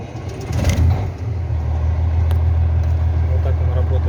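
Detroit 12.7 diesel engine without EGR in an International truck runs at a steady idle, its deep, even drone holding close and constant after a brief louder swell near the start.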